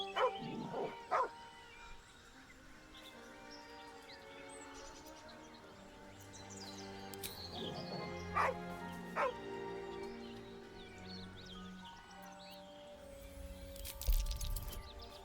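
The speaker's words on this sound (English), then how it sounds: "The dog lowers his hackles, his head tilted inquisitively." Dog in Baldur's Gate 3 giving a few short barks and yips early on, then soft whimpers and whines over a layered ambient game score, with another sharp yelp near the end.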